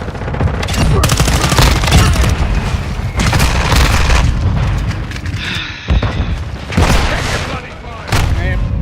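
A military shooter video game erupts with heavy grenade blasts and rapid bursts of gunfire, loud booming explosions separated by brief lulls, with voices shouting in the game over the chaos.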